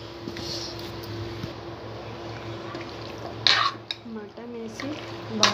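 Mutton being stirred in a cooking pot with spices, soft scraping and wet clinks of a spoon against metal over a low steady hum, with a few louder clattering stirs toward the end.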